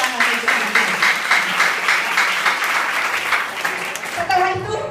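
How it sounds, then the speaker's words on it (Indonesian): An audience at a business success-sharing event applauds in a steady, dense burst of clapping for about five seconds. Voices blend in beneath the clapping. "Beri tepuk tangan untuk dia."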